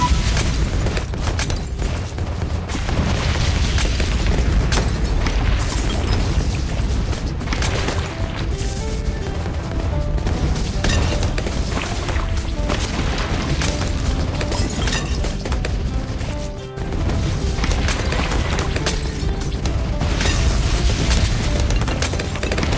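Explosions in the video game Bloons TD 6, a loud, continuous barrage of booms, bangs and hissing bursts that stacks up densely, with one brief dip near the end before the barrage resumes.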